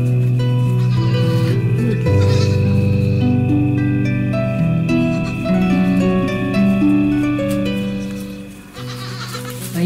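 Goats bleat loudly and repeatedly, several overlapping calls close by with hardly a pause between them.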